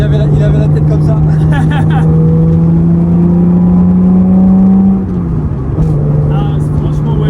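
Carburetted six-cylinder engine of a Nissan Datsun 280Z pulling steadily and loud from inside the car, a sustained rising drone that eases off near the end, with no voices.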